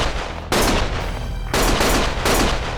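Sustained gunfire in the video game Lost Judgment, loud and continuous, with dense bursts swelling in several waves and no speech over it.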